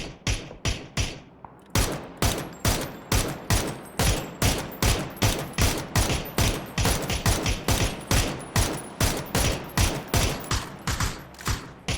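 Rapid bursts of video game gunfire in regular rhythm, loud and close, repeating steadily throughout with short gaps between shots.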